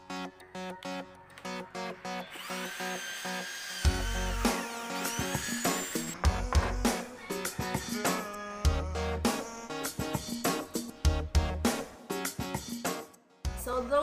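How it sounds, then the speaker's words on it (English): A handheld impact drill used for DIY woodworking runs in short, loud, uneven bursts with stops between them, with no talk over it. "Gets the job done faster and you don't have to push it that hard because it's impact drill."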